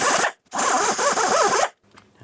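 A power tool cuts through the exhaust pipe of a 1998-2010 Volkswagen Beetle during a sleeve and clamp repair, giving two loud continuous bursts of harsh, wavering grinding with a short pause between them and a faint tail afterward.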